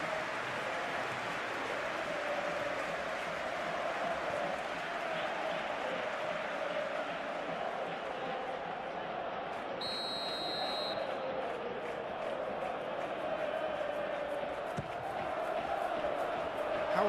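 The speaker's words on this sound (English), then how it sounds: "it certainly got the crowd going" Stadium crowd in a PES 21 football match simulation, Benfica against Real Madrid in the Champions League, roaring and cheering continuously at steady loud volume, with a brief high whistle-like tone partway through.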